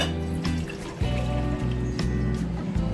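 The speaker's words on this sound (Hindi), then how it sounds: "अब हम इस बॉल में ये 1 गिलास दूध ऐड करेंगे" A glass of milk poured into a bowl while making semolina and egg halwa, a steady close trickling and filling sound running throughout without talk.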